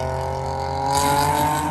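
A 2024 Nissan Z NISMO's VQ V6 engine hums steadily up close, a dense, buzzy drone that swells slightly louder partway through.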